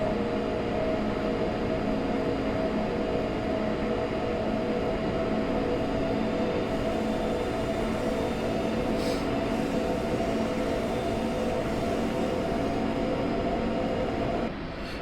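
A train running on the Semmeringbahn in Train Simulator, with a steady, loud rumble and rolling drone that carries on without a break and fades slightly at the very end.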